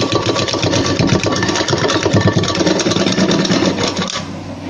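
A sewing machine stitches the side seams of a blouse in a loud, close, continuous motor hum with a rapid needle clatter. It runs steadily and cuts off abruptly near the end, with no talking.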